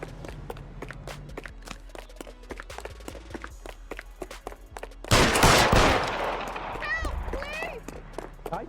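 Gunfire in the L.A. Noire video game, a loud burst of shots that erupts midway over game music and rapid footsteps, followed by lingering noise and character voices.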